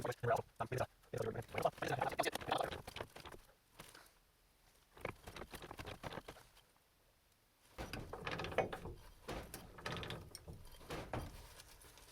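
An old mechanical, non-hydraulic house jack ratchets under load while a house is lifted, with bursts of clicking and clanking that come and go and fall quiet between them. Someone talks at times over the work.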